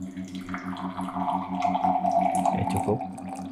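Filtered water pours from a ZIPRO+ portable reverse-osmosis filter after processing tap water, a soft steady trickle over a low hum that grows a little stronger midway.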